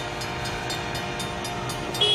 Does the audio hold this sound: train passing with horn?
yes